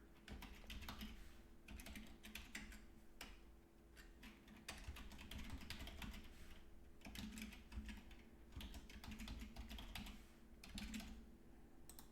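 A password is typed on a computer keyboard, a quiet, steady run of rapid key clicks with short pauses between bursts, close by and with no talking.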